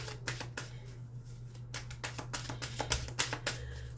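Tarot cards are drawn from a deck, giving a quiet series of crisp papery flicks and slaps, irregular and close, over a low steady background hum.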